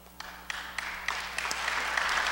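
Audience applause at a Cleveland Aradhana Carnatic concert: scattered claps start quietly and build into steady, fairly distant clapping over a couple of seconds.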